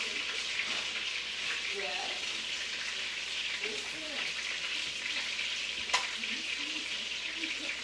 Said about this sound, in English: Cooking it this way with the skin side down for the 5 minutes.